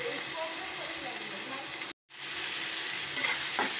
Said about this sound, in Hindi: देख सकते हैं कि हमारा जिंजर गार्लिक और ब्लैक पेपर अच्छे से भून गया है।